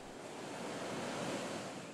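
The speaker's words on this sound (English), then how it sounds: "With every wave that breaks and washes ashore, with every gust of wind" Ocean waves break and wash ashore on the North Carolina coast, giving a soft, continuous roar of surf mixed with wind noise that swells slightly and fades, heard quietly and alone.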